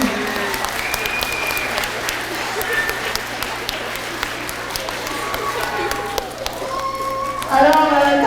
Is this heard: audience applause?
yes